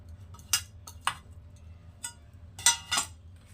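A spoon scraping and clinking against a bowl while grated coconut is mixed into batter for doi bhapa pithe, a handful of irregular sharp clinks spaced apart over a quiet background.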